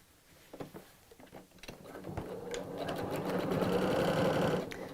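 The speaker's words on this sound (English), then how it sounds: "I'm using my 1/4 inch foot on the sewing machine, or quilting foot sometimes called" Sewing machine fitted with a quarter-inch quilting foot stitching a seam on a tote bag, starting with a few soft clicks and handling noises, then a steady whirring run that builds and holds close and moderately quiet.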